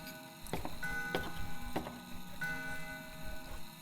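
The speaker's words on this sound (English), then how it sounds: "It's an antique grandfather clock." An antique grandfather clock in the Spirit Hunter: Death Mark video game ticks quietly in a sparse rhythm, with a few sharp clicks spaced roughly half a second apart over a soft background hum.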